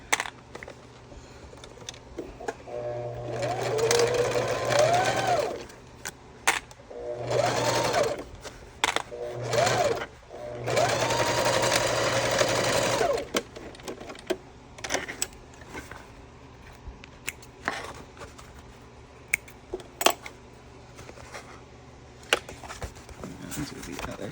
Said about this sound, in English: we're going to sew these with a 3/8 inch seam allowance.